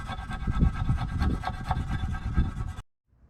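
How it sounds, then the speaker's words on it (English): Plastic razor blade scraping old gasket material off the edges of a 2008 Mustang Bullitt rear differential cover, a steady close rasping rub for almost three seconds before stopping. "I took my plastic razor blade and I scraped off the edges"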